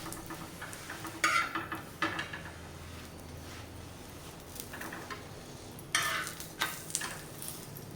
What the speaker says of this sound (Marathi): अजून एक भाजून दाखवते बघा